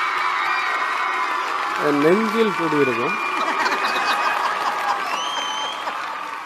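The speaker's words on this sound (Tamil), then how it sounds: "அவர்களுக்கு உங்களோட பலத்த கரகோஷங்களை கொடுத்து விடலாம்." An audience at a comedy show applauds and cheers to welcome a guest, a broad, steady crowd noise while a voice sings briefly over it.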